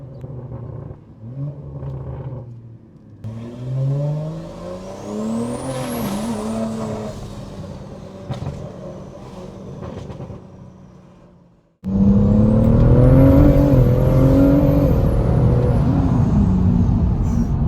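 A tuned 1600 hp BMW M140i engine revs hard, rising and falling in pitch, then roars much louder and closer in a sustained full-throttle blast with no talk.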